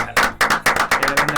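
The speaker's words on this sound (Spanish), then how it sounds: "lo vamos a recibir con un fuerte aplauso" A short burst of hand clapping in a radio studio with a fast, uneven rhythm, close and fairly loud, like a small group applauding.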